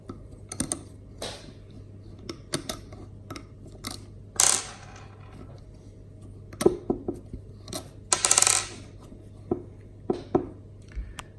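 Bolts are worked out of a magnetic pickup, producing scattered sharp metallic ticks and clinks at uneven intervals, with a couple of louder scraping bursts, close in a quiet workshop with a low steady hum underneath.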